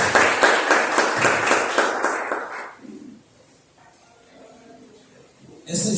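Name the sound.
church congregation applauding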